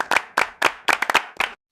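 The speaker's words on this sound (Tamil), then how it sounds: "அனைத்து காய்கறிகளும் மகிழ்ச்சியுடன் கைத்தட்டி தக்காளியை பாராட்டினர்." Hands clap in a cartoon story about vegetables, about eight crisp, close claps in an uneven quick rhythm, then silence.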